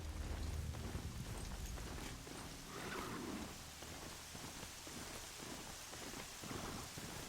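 Steady rain patters softly throughout, with low rolls of thunder rumbling underneath, fairly quiet and distant, in the video game Horizon Zero Dawn.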